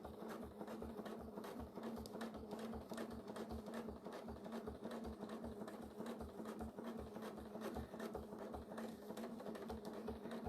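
A sewing machine stitches free-motion quilting along rulers, a steady rapid mechanical chatter of evenly repeating needle strokes, close and continuous with a low motor hum beneath, no talking.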